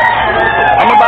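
A loud, sustained rooster crow rings out close by, a drawn-out harmonic call with noisy chatter faintly behind it.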